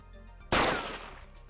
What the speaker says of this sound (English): the gunshot sound kind of scared me